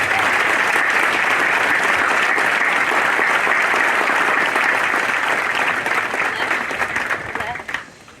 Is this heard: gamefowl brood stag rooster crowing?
no